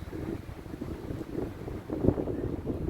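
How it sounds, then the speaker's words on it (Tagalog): Strong wind at a mountain pass viewpoint among pine trees buffets the microphone with a low, steady rumble and gusty surges, loud and close throughout. "Lakas ng hangin, no?"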